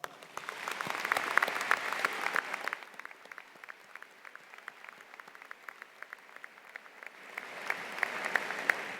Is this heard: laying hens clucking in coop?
no